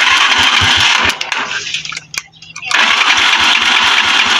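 Small engine on a hot-wired ignition cranks and catches, running loud and steady, then briefly drops away before roaring back to a continuous rough idle, with voices talking over it.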